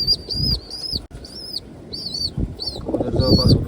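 Pigeons near their nest with eggs give soft repeated coos and calls, with wing flutters and rustling close by over a quiet indoor background.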